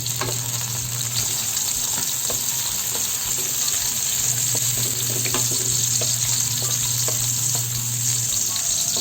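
Garlic fries in hot oil for Bisaya fish tinola, a dense continuous sizzle with light stirring clicks and a steady hum underneath.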